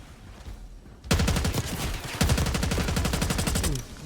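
Automatic weapon fire from Call of Duty Black Ops 6 rattles in two loud rapid bursts, a dense stream of sharp shots lasting nearly three seconds.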